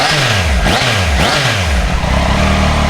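A 2018 Triumph Tiger 800 XC-series motorcycle revs hard through a slim, tucked-in exhaust with a small muffler, rising and falling in repeated loud, close swells, alone with no talk.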